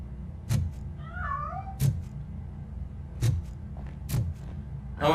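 A cat meows several times in the RoboCop: Rogue City video game, the rising, wavering cries alone and fairly close, between sharp thumping game sounds over a low steady background.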